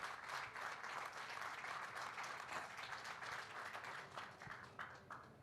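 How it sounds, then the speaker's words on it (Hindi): A studio audience applauds in a steady, even patter of many hands that carries on without pause, fairly quiet and with no talking over it. "सच में पहले तो इसके लिए ताली बजा दें सारे एक बार जोर से."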